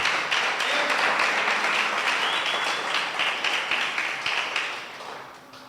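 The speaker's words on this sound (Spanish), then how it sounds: "Al Señor un fuerte aplauso." A church congregation breaks into sustained, loud applause, dense clapping filling the room evenly and slowly tapering off toward the end with no voices over it.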